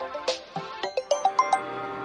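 A phone ringtone chimes in a short melodic run of bright, bell-like notes, each note sharp and quickly fading, fairly close and alone with no talking.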